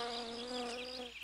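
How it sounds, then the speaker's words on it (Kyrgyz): Flies buzzing in a cartoon, a steady whining drone with layered tones, continuous and close before cutting off abruptly. "Чымындар мени тажатып ийишти."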